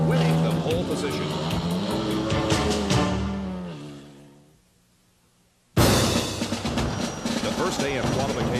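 Indianapolis 500 race cars at speed during first-day qualifying, Ford-powered machines among them, roar past loudly in a rising and falling whine that fades almost to silence before another car bursts in abruptly close by, with a commentator talking over it.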